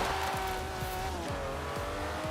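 Race car engine in a racing video game braking hard into a corner, steady mechanical drone with repeated downshift blips and a faint tyre squeal, loud and continuous with no talk.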